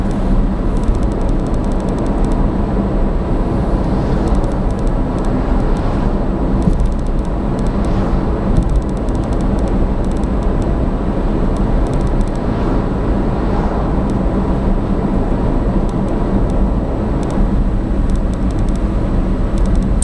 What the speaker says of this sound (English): Lovely and quiet in an electric car